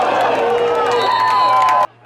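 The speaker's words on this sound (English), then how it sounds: "Let's just listen to the crowd reaction." A high school football crowd at Thatcher versus Santa Cruz Valley roars and shouts in reaction to a hard tackle. The dense cheering is loud and close, then cuts off abruptly.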